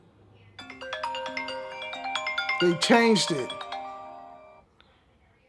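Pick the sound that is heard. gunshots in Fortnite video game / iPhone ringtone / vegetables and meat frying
iPhone ringtone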